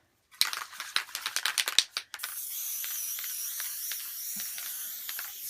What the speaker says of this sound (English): We used our Sullivan's quilt basting spray